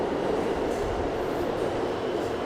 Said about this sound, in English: Now this is the F train.